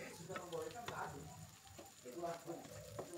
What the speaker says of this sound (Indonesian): Sudah masuk, tumis sebentar.